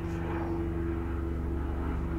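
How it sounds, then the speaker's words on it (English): Helicopter flying low over a house, a loud, steady engine drone with a strong low hum and persistent throbbing, close and continuous the whole time with no speech over it. "As a helicopter flies over my house."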